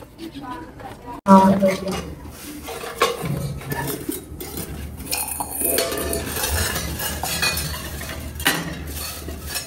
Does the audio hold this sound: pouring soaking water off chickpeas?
yes